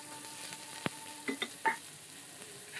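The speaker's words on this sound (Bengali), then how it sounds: "এখন আমি কেটে রাখা আলুগুলোকে দিয়ে দিলাম।" Cut potatoes dropped into hot oil with garlic paste for a cowpea fry, with a faint steady sizzle, a sharp clatter near the start and a few soft scraping stirs, close and quiet.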